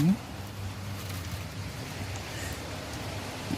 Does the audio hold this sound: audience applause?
no